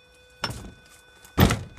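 A summerhouse door fitted with a burglar alarm contact, closing in two dull thunks about a second apart, the second louder and heavier, against a quiet background.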